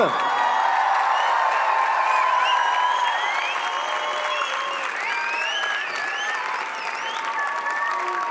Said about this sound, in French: j'aimerais qu'on fasse un grand applaudissement pour Justine Rieder, pour Yann Guéry, pour Anne-Christelle Zanzen et toute son équipe